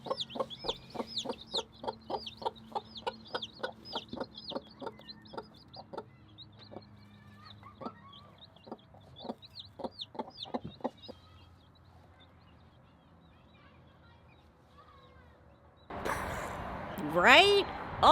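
A mother hen and her newly hatched chicks cluck and peep nearby, a run of rhythmic clucks and soft chirps that thins out over time before a burst of louder, muddled noise at the end.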